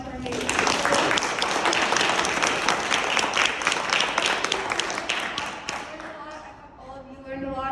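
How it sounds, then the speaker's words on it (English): An audience at a speaker series event gives a round of applause, brisk and fairly close clapping that fades toward the end as a voice begins speaking. "can we get another round of applause for amazing?"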